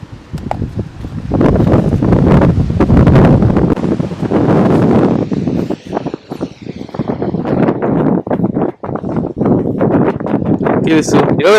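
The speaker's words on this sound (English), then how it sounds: "you already know it's always windy around here" Strong gusts of wind buffeting the microphone, roaring and rumbling loudly up close, with a voice briefly calling out near the end, in Saint Lucia.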